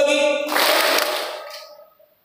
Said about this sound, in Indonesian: Ketika saya mengatakan selamat pagi, tepuk tanganmu 1 kali.